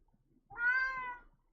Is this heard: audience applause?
no